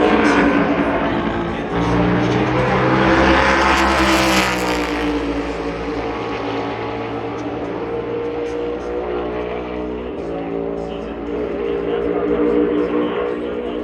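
A fast race car on a qualifying lap at Phoenix for the 2025 Shriners Children's 500, its loud engine holding a continuous high whine that rises and falls in pitch as it passes, with commentary talk underneath.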